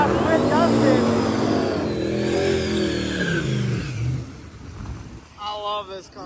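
Drag racing cars, a Mustang and wagons, accelerate hard down the strip: a loud revving engine climbs through gears, then fades into the distance as another engine note rises briefly near the end, with crowd or commentary voices underneath.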